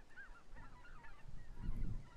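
White-naped cranes calling at Junam Reservoir, a series of bugling, honking cries that rise and fall over a steady outdoor rumble, moderately distant and fairly faint, with no voices.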